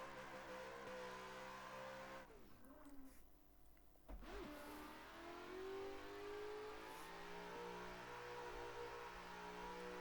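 A drift car engine at full throttle in Assetto Corsa, a close, loud revving engine with rising harmonic pitch, a brief dip and a shift, then climbing again to a sustained high-rev whine.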